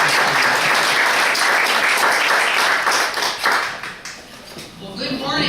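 An audience at a Hispanics in Politics event applauds to welcome State Senator Cegavske, a dense, loud burst of clapping that fades out toward the end.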